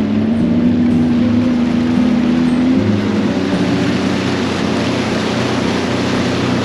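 A Sea-Doo personal watercraft cruises along the Erie Canal near Tonawanda, New York, its engine giving a loud, steady, close-up drone with a faint whine that dips slightly partway through, and no talking.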